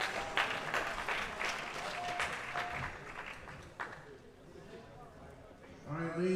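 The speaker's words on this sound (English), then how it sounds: "a big round of applause for all of our medals in the bench press" Audience applause at a world classic powerlifting championship medal ceremony for junior men's 93 kg bench press medalists, a steady broadband clapping wash filling the hall that thins toward the end, with some voices mixed in.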